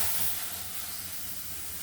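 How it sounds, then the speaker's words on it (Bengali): Milk hisses and steams as it is poured into a hot pan where rice flour has just been fried in ghee for a sweet, a close, steady sizzling wash with no voices. "এবার দেখুন দুধটা আমি ঢেলে দিচ্ছি"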